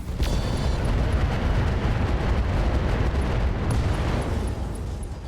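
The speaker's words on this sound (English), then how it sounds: "So that's an ammo explosion in that Stalker." Ammo explosion in a Stalker mech in the video game RogueTech: a loud sudden boom followed by a sustained, dense roaring rumble that holds for several seconds before easing slightly.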